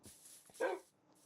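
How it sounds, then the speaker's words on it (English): A dog barks once in a Minecraft survival game, a short mid-loud yelp standing out against quiet game ambience, with faint softer sounds around it. "Is that a dog? That is doggo"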